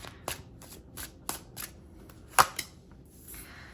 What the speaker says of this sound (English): let me go ahead and pull some cards